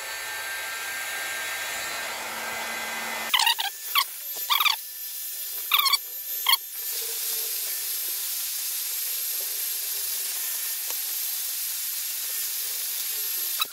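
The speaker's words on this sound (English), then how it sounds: "I'll just go get the hot air gun. We'll heat this sprocket up fairly evenly." Hot air gun blows on a steel sprocket, a steady close whooshing hiss running throughout, interrupted briefly by a few sharp handling knocks and clicks partway through.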